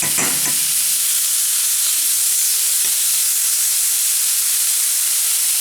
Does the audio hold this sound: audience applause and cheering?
no